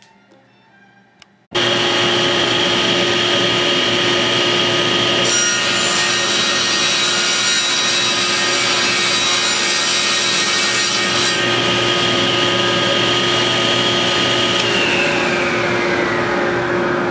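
Power saw cutting wood for a new back panel of a white oak tool cabinet, starting abruptly after a quiet moment and running as a steady loud whine with shifting tones for the rest of the clip.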